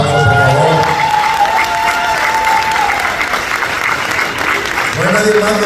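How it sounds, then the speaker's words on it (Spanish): An audience at a Teachers' Day celebration breaks into loud, sustained applause with some cheering, while an amplified voice speaks over the start and again near the end. "Un fuerte aplauso, por favor."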